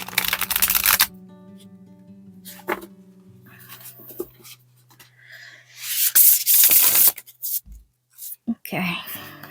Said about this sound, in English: I'm going to attempt to riffle shuffle this.